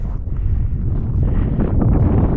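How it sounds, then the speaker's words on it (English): Strong wind roars and buffets the microphone continuously on an Iceland volcano summit, a low, heavy rush with no other sounds. "Very cold and windy up here."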